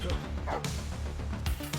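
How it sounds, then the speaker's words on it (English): A police K9 dog in the video game The Precinct barks and growls in short, loud bursts over a dense background of game effects and radio chatter. "Police dog in use."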